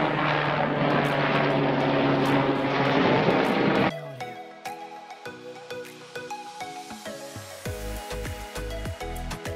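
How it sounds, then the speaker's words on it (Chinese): A helicopter flies over a sunny Swiss glacier ski resort. A loud, steady rotor drone fills the first four seconds, then drops to a quieter, thinner hum. "直升机来了。"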